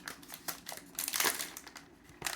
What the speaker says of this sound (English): Well, I'm fully capable of opening a plastic bag.